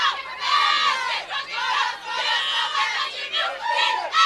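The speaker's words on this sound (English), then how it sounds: "And LIU Brooklyn also doing their cheer." At a college bowling tournament, the LIU Brooklyn team belts out a loud group cheer, many voices shouting together in rolling, uneven bursts that stay close and energetic throughout.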